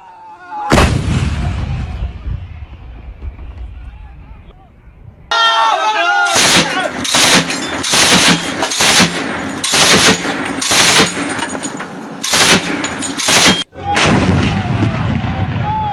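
A 12.7 mm gun and artillery fire in a barrage along the Line of Control in the Uri sector: a loud boom rolls out, then a rapid series of heavy, evenly spaced blasts follows, very close and powerful.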